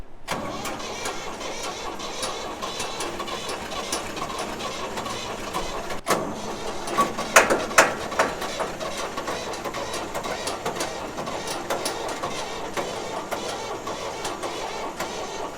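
The diesel engine of a 1988 Ford 545C skip loader cranks over and over with air in the fuel, a steady rapid churning of the starter with a louder sputtering burst midway that fails to catch.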